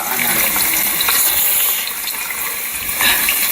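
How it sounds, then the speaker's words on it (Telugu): Onions go into hot oil to fry for a home-style chicken curry. A loud, dense, steady sizzle with a watery, bubbling texture fills the whole stretch, close and unbroken. "నూనె కాగాక ఉల్లిపాయలు వేసుకోండి"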